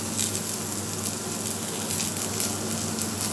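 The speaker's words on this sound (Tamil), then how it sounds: "இந்த மாதிரி நல்லா வதக்கிக்கணும் வெங்காயம்" Onion and snake gourd sautéing in a pan, giving a steady, dense sizzle and crackle that holds even throughout with no voices.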